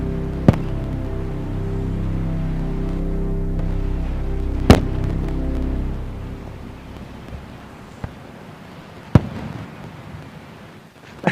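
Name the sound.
fireworks exploding at Starbase 4th of July celebration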